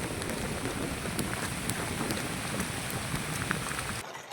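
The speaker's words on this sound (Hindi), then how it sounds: "बहुत जोर से वर्षा होची" Heavy rain pours steadily in a jungle, a dense continuous hiss with drops spattering on surfaces, loud and unbroken before it drops off abruptly near the end.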